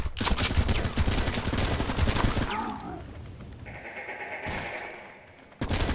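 Rapid automatic gunfire from squad members in the sci-fi tactical game The Red Solstice, loud dense bursts that cut off into quieter game effects and a tone, then fire erupts again abruptly at the end.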